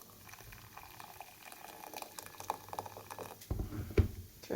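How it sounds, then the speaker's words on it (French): Chopped onion cooking in a pan over medium heat gives a steady low bubbling sizzle, quiet and continuous, with a few louder pops and a brief clatter near the end. "je vais laisser l'oignon cuire entre 3 et 5 minutes, toujours à feu moyen"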